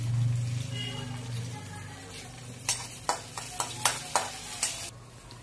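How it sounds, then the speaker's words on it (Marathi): Fenugreek greens drop into hot tempering oil in a home kitchen and sizzle steadily. Near the end a spoon stirs them, giving a run of sharp, rhythmic scrapes against the pan. "इकडं आता मेथीची भाजी टाकते फोडणीला"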